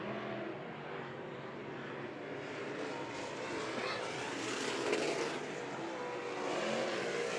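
Dirt track race cars roar steadily through a heat race at Stockton Dirt Track, engines droning together at a distance with a faint commentator's voice over them.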